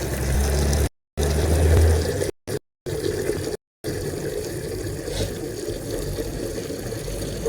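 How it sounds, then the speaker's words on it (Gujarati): Water splashes steadily onto the soil of a newly planted tulsi plant, a continuous close pour with a few brief interruptions and no talking. "હવે એમાં આપણે પાણી નાખી દઈએ."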